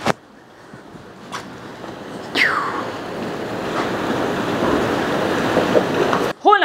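Sea waves at night on the coast at Opatija, a steady rushing wash of surf with light wind noise, fairly close and continuous, with brief faint sounds over it.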